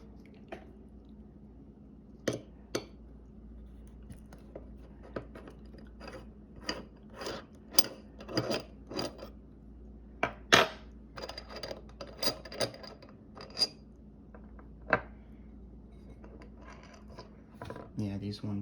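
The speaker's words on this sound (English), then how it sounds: "I broke out an Allen key, and I'm just gonna go ahead and change these clamps" An Allen key works the clamp bolts on an S-Works seat post, giving scattered faint metallic clicks and small scraping ticks in a quiet room, irregular and close.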